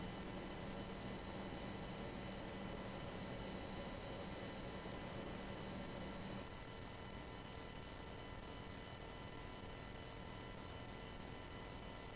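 SWISS Airlines A330 pushing back at Frankfurt in Flight Simulator X, a steady loud broadband whine and rumble of aircraft engines and systems, continuous and unchanging apart from a slight drop halfway.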